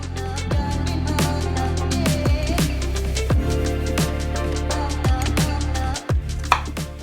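Carrots being cut into strips with a knife on a board: a steady series of crisp, close chops at a regular pace, about a dozen strokes, with no one talking.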